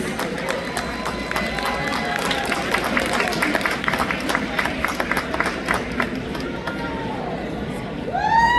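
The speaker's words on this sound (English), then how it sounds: "One last round of applause for all of our Unidos Jax winners." An audience at an awards dinner gives a round of applause for the winners, steady crowd clapping and cheering with chatter mixed in throughout, swelling slightly at the end.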